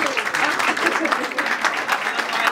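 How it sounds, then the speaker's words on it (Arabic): Applause from an audience at a radio station's Mawlid celebration in Kairouan, a steady wash of clapping from a crowd that holds throughout. "يسحق تصفيقة من عند الحاضر"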